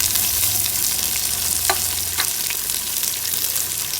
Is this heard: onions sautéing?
yes